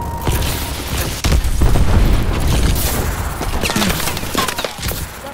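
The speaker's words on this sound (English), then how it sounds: "Enemy missile strikes incoming. Take cover." Missile strikes exploding in a team deathmatch video game, a string of deep booms and crackling blasts layered over continuous rumbling battle noise.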